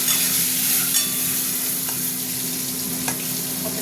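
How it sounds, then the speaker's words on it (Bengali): Eggs frying in oil seasoned with salt and turmeric, a loud steady close sizzle with a few light spatula scrapes, no voices. "কেমন তেলে নুন হলুদ দিয়ে দিয়েছি, ডিমগুলো ভাজা দিয়ে দিলাম"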